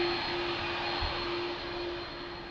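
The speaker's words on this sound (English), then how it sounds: "And another 777 is on final." Boeing 777 jet on final approach into Lisbon Airport, a steady broad engine roar with a high whine tone, holding fairly constant then easing slightly toward the end, with no voices.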